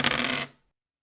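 Two six-sided dice tumbling across a table in a tabletop roleplaying game, a quick close clatter of hard rattling hits that dies away within half a second.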